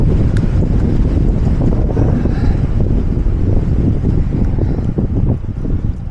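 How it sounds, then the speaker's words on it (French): Strong wind roars through the Gorges de Galamus, a loud, continuous buffeting rush battering the microphone with no pause. "Quoi ce vent de malade?"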